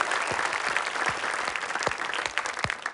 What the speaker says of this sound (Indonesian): Oke, tepuk tangan untuk Rahmat Ababil.